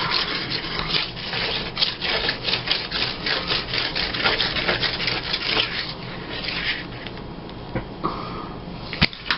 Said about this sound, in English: my glue mat is getting all glued up. So I'm cleaning it off.